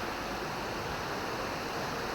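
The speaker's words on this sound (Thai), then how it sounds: "ลำธารเนาะเพื่อน" A mountain stream flows past a village in Lan Saka, Thailand, its water rushing and splashing in a dense, steady hiss that stays constant throughout, with no voices.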